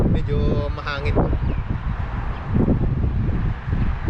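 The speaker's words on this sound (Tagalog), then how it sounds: "Pagpasensyaan nyo na po kung maingay po yung video, medyo mahangin po." Gusty outdoor wind buffeting the microphone, with heavy low rumbling bursts rising and falling, while a person talks briefly over it early on.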